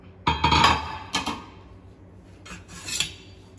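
Cooked rice for mutton biryani spooned into a pot with a metal utensil, giving a few sharp scraping clatters and clinks in two short bursts.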